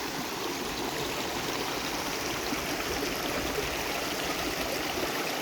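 A small forest stream in Doncaster park pours into a river, giving a continuous, close rushing and bubbling wash of water that stays steady and even, with no talking.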